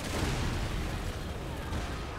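Grenade blasts in Resident Evil 6's Ada campaign roll out as a dense, continuous wall of booming low rumble and crackling debris, loud and close, with no clear gaps between detonations.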